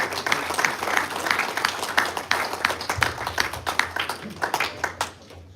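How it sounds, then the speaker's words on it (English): Scattered clapping from guests at a greyhound derby lunch, moderately loud with uneven individual claps, while a voice talks underneath. "a big round of applause for Team Reese Bear Evans."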